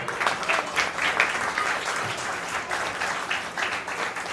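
Audience applause breaks out at an anniversary event and book launch in honor of a Colonel, a dense, steady clapping from a crowd that carries on throughout without pause.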